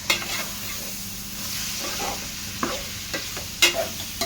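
Pork pieces being stirred in a hot frying pan for a Thrissur-style pork and koorka (Chinese potato) dish, a steady sizzle with several sharp scrapes and clatters of the spoon against the pan, close and clear with no talking.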